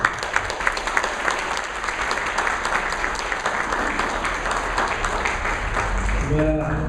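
Audience applause welcoming the national dean of a journalists' association at a formal ceremony in Lima, steady dense clapping from a sizable crowd lasting throughout, with a brief tonal sound near the end.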